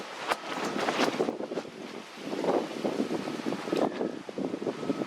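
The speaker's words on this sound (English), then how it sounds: "I don't know if you can hear me, because this wind is horrendous." Strong outdoor wind buffeting the microphone in heavy, continuous gusts with a rushing roar, loud and close, while someone works on a camper rebuild.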